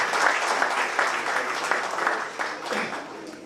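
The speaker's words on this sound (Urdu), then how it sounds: "ایک مرتبہ آپ زوردار تالیاں ان کی حوصلہ افزائی کے لیے." An audience at an award and entertainment event applauds students, a dense, fairly loud burst of clapping that thins slightly toward the end, with some voices underneath.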